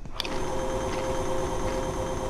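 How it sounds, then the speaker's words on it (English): A vacuum tool in the video game Abiotic Factor runs with a steady whirring hum and a sharp click at the start, continuing evenly without speech. "I think the vacuum works."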